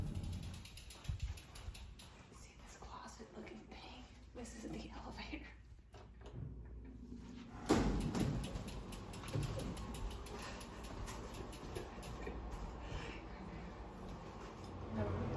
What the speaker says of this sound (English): Look how tiny this elevator is.